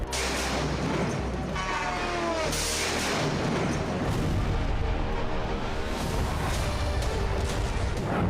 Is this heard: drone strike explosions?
yes